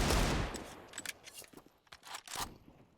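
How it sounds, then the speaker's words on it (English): Scout sniper rifle shots in Counter-Strike during a competitive HAVU vs. ENCE match: a quick series of sharp, close cracks and clicks, with a louder burst at the start and scattered shots after it. "Scout shots continuing to ring out here from Slowy"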